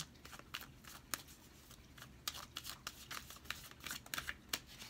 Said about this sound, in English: we're going to shuffle 2 more times for you.